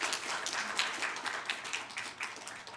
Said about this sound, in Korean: 우리 두 분을 위해서 다시 한번 뜨겁게 박수로서 격려해 주시기 바랍니다